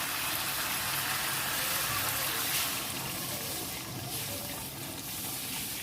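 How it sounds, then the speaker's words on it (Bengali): Water added to a pan of fried curry masala, giving a dense continuous hiss and bubbling sizzle that stays loud and even throughout. "এবার আমি এতে জল দিয়ে দেবো।"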